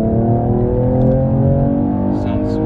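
A Mercedes-Benz E53 AMG Coupe engine in Sport Plus mode, a steady, loud, deep engine drone with layered harmonics heard from inside the car, holding without any talking.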